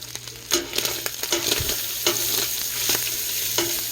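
Italian sausage and onion cook in a pot with a continuous sizzle, broken by sharp clanks and scrapes of stirring at irregular intervals.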